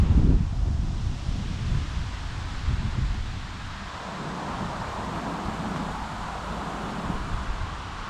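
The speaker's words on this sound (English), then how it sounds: "I have a wind muff on the camera, so hopefully that helps because the wind's pretty intense." Strong wind hits the microphone as a weather front rolls in, a loud rumbling buffet with rustling mixed in. It is heaviest at the start, then settles into a steady roar.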